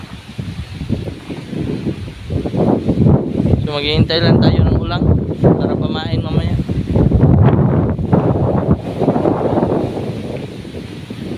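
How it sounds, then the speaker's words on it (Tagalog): Strong wind by the Pulangi River roars and buffets the microphone steadily, with rustling trees underneath, while a person talks over it throughout. "sobrang sobrang hangin oh, tignan nyo yung mga puno sobrang hangin po dito"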